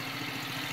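A self-built ride-on lawn mower powered by two engines runs steadily nearby, a continuous idling engine hum with a faint knocking pulse and no pauses.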